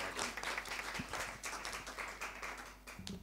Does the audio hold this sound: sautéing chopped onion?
no